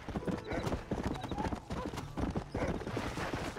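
Horse hooves in the Red Dead Redemption video game, a dense, fast clip-clop of galloping hooves up close, with a brief whinny and someone talking over them.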